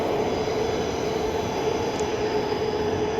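A train rolls in at the low-level platforms of London St Pancras International, a steady loud rumble of wheels and carriages filling the station, with a faint squeal and a low hum running throughout.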